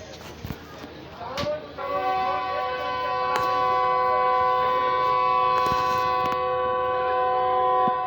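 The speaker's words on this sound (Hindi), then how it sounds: "ट्रेन हॉर्न देना शुरू कर दी" A train horn blares in long sustained tones close by, starting after a brief clatter and continuing steadily over station noise with faint voices, at Bahawalpur station in Pakistan.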